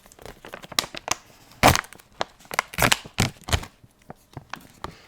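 A packet of gummy mango peeler candy being torn open and handled, with crisp close plastic crinkles and rustles coming in irregular bursts, a few sharper louder crackles in the middle, and quieter handling toward the end.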